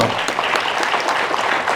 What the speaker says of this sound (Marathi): या टाळ्या तोपर्यंत जोपर्यंत डॉक्टर हिमंत बिश्व शर्मा आणि शुभेंदू अधिकारी